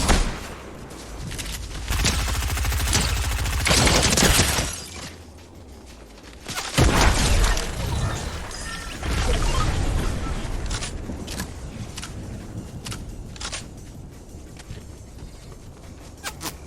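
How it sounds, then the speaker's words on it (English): Video game gunfire aimed at the player, bursts of rapid shots and sharp cracks in loud clusters separated by quieter stretches, with a few isolated pops later on. "who's shooting at me?"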